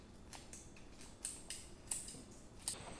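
Quiet scissor snips, about five crisp cuts at an uneven pace, are heard against a faint, still background.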